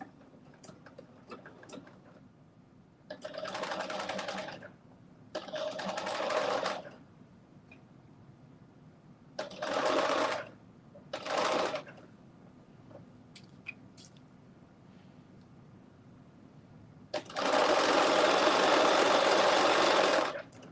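A domestic sewing machine runs a straight seam in several short bursts of steady, fast, rhythmic stitching separated by pauses. The final run is the longest and loudest. The machine sounds close and is heard alone.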